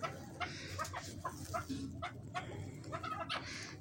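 A chukar partridge held in the hand gives a series of soft, rapid clucking calls in short bursts, close and fairly quiet, with faint background noise.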